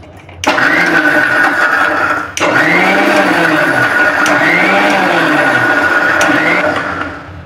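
A mixer grinder dry-grinds rock sugar with cardamom and nutmeg, its loud, steady motor whine cutting off briefly before a second long run, with a rhythmic wobble as the powder tumbles.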